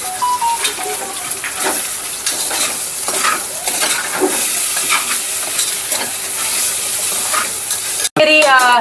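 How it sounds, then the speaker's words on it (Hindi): Saag with potatoes frying and sizzling in a pan as it is stirred, a steady hiss with scraping spoon sounds throughout, cut off near the end. "एक पे तो बन रहा है हमारा साग और आलू और एक पे बन रहा है राज के लिए आलू"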